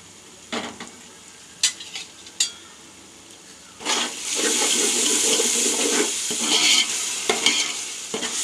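Tap water splashes and swishes as chicken is washed for dum biryani, with hands stirring the pieces in a bowl, loud and continuous after a few scattered knocks.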